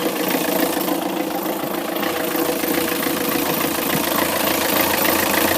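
A Yanmar 4JHE diesel engine aboard a 25-foot trawler runs steadily at 1,000 RPM, a continuous low rumbling drone heard up close with no voices.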